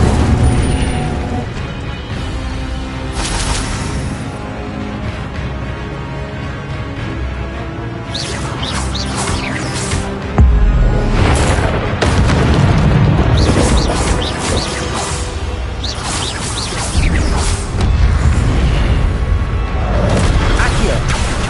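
Incendio fire spell explosions in Hogwarts Legacy: several loud, heavy bursts and crashes land amid dense, continuous game music and effects, with the strongest blasts arriving in the second half.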